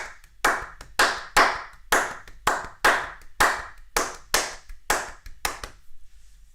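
Hands clap a steady pattern of eleven sharp, close claps grouped 3-3-2 within a bar of 8/8 time, each crisp and dry, with no talking.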